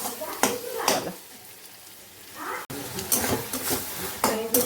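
Dried fish paste is stirred and sautéed in a pan at home, with scraping and clattering of a spoon against the pan and a light sizzle, broken up by someone talking.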